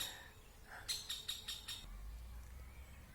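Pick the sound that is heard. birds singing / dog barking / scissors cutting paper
birds singing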